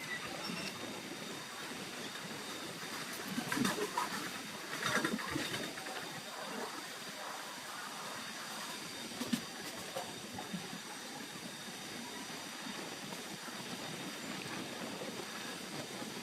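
The Kerala Express, a Thiruvananthapuram to New Delhi passenger train, runs slowly between Tenali and Vijayawada. A steady, fairly quiet rolling rumble of wheels on track is heard from inside, with a few faint clanks along the way and no talk.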